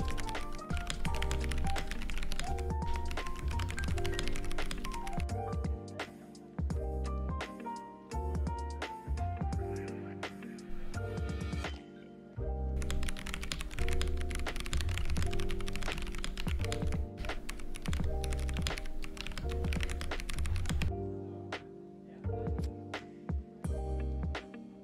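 Rapid clacky keystrokes on a custom mechanical keyboard with Ergo Clear and Silence switches, bursts of typing with short pauses, close and crisp, no voices.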